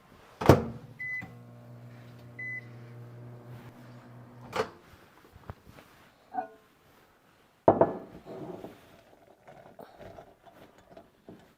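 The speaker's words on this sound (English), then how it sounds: "we're going to melt that in the microwave" A microwave oven runs with a steady low hum while candy melts for no-bake Christmas bark, set between a sharp door clunk, a beep, later clatter and a second loud knock, all fairly quiet.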